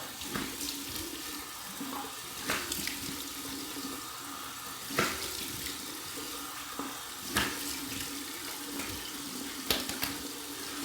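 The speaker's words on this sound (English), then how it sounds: "Cold water rinse." Cold water runs steadily from a tap into a sink, a continuous close splashing rush with a few louder surges, no talking.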